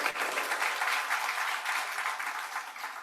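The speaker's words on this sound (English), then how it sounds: "So let's give them a round of applause." Crowd at a small business pitch competition applauding the sponsors, a full, dense wash of clapping at steady loudness from start to finish, no voices over it.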